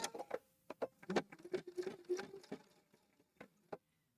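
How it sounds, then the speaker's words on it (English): A home sewing machine stitches around the folded fabric edges of a DIY shower mitt in short clattering bursts and pauses, the motor's ticking patter fading out toward the end. "we are going to stitch down around the edges like so"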